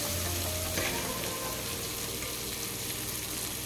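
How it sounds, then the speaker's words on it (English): Lime pieces for lime pickle sizzle over a low flame in a pan, a steady hiss running throughout with a brief stirring clatter near the start, moderately close and alone without talk. "let's transfer the lime into the pan and give it a quick mix"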